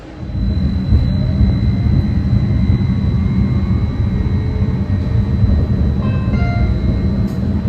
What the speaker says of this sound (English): the pantograph on the roof of the tram has now been lowered, and we're going to be running on battery power for this next short little section